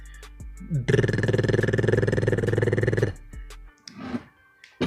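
A voice imitates a Subaru engine misfiring with a mouth buzz, a pulsing, stuttering drone lasting about two seconds, followed by a short breathy sound.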